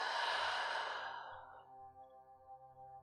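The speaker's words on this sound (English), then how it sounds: "Now taking a deep breath in and exhale, release." A single deep exhale, a soft breathy sigh trailing off over a couple of seconds, heard close and quiet during a guided relaxation with faint low background hum.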